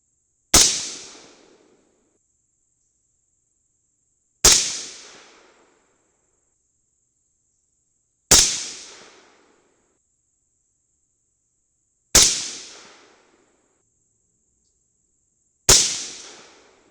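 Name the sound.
suppressed AR rifle firing Bob's Bulk 223 ammo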